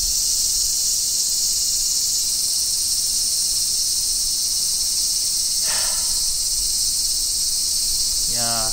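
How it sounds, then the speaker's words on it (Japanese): Summer cicadas shrill in a loud, continuous high buzz at an outdoor site in Ibaraki, Japan, with a couple of brief, lower rasping calls near the end and no talk. "セミのね、鳴き声でね、暑さが体感的にね"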